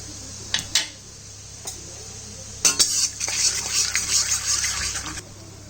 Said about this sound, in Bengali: ওই তেলের মধ্যেই কালো জিরে শুকনো লঙ্কা আর সাদা জিরে সম্বা দিয়ে দেবো